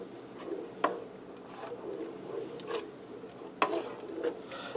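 Tomato juice being stirred into chili inside a Ninja Speedi cooker, giving soft, wet squishing and scraping strokes with a couple of sharper clicks, close and fairly quiet with no talking.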